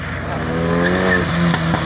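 A drift show car at an airfield event slides with locked wheels, a steady tire squeal and engine drone heard at moderate distance, holding a sustained tone for about two seconds.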